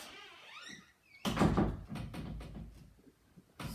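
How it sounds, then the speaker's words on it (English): A closet door swings shut and its ball catch snaps onto the strike plate with a sharp, loud knock, followed by a few lighter rattles and taps, close by and with no voices. "test to make sure that when we close the door, the ball catches on that strike plate"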